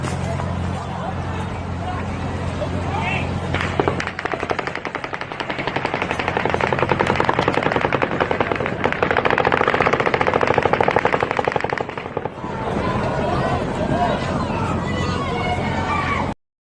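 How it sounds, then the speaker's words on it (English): A volley of automatic gunfire in a recording of the Route 91 festival shooting in Las Vegas: rapid, sustained bursts of shots ringing out with echo, with crowd babble and voices underneath. "the fourth volley of automatic gunfire begins"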